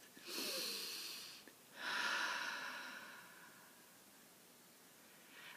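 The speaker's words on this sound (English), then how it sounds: "Take a deep breath." A person takes a slow deep breath in a quiet room during a calming tapping session. It comes as two soft, airy breaths, a shorter one followed by a longer one that fades out gently. The breathing is faint and close, and no one speaks.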